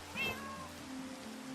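A single short cat meow from cat boots in the Minecraft video game, a clear rising-falling mew followed by faint game background hum.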